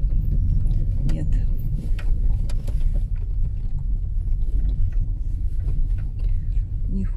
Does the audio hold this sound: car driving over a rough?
yes